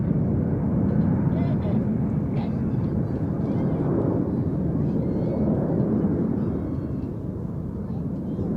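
Red Arrows display jets roar overhead at RAF Mildenhall, a broad, steady jet rumble that stays fairly constant for several seconds, with a commentator's voice running over it.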